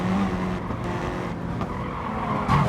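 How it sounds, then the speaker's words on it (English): A Mitsubishi Evo's gruff engine drones steadily in Gran Turismo Sport racing, joined by loud, continuous tire skidding and squeal, with a brief sharper scrape near the end. "You have to love the Evo. It sounds so grunty."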